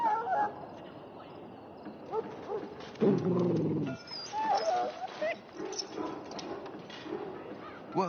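A dog whimpers and yelps in Dragon Age Origins, with a short louder burst of whining in the middle, mixed with game background sound and some voices.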